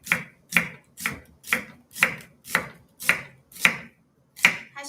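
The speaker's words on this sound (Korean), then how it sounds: "식이섬유 방향으로 얇게 썰어주시면 됩니다" A knife thinly slices food along the fibre on a cutting board in an even rhythm, about nine crisp slices close up, with a brief pause before the last.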